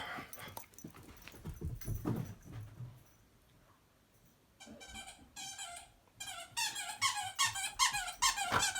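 A dog whimpers and squeaks in high, rapid bursts, close by, after a stretch of rustling and a quiet pause.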